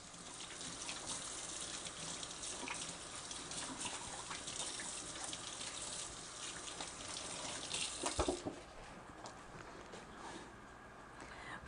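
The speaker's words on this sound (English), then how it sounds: "Rinse my hands again." Tap water runs steadily over hands at a kitchen sink in a broad, faint hiss, then cuts off abruptly, leaving quiet room tone.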